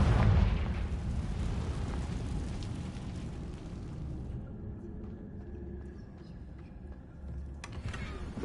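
Magical Bombarda and Confringo spell blasts in the Hogwarts Legacy game, a heavy booming explosion at the start rolling into a long rumbling decay that tapers off.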